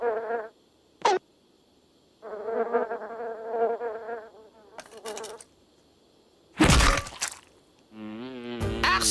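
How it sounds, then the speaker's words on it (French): Flies in a cramped, hot shed buzz in several close, loud bursts with silent gaps between them, and a few sharp cracks break in before a last wavering buzz. "harcelé par les mouches qui s'agglutinent sur mes plaies purulentes"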